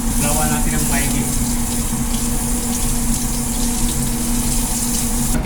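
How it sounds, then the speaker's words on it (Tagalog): Kimchi is rinsed under a running tap, with a steady loud rush of water splashing close up throughout. "Ngayon, banlawan natin ulit."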